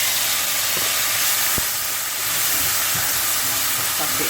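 Cooked shrimp land in a hot pan seasoned with ginger powder for ramen, giving a steady loud sizzle and hiss throughout, with a faint tap or two underneath.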